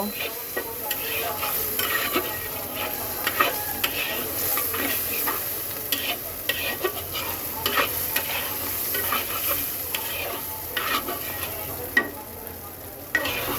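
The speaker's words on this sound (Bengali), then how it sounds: "এইবার মাছটাকে একটু ভাজা ভাজা করে নেব" Oil sizzles and crackles steadily as shrimp fry in a hot pan, with occasional stirring scrapes and light clinks, and no voices.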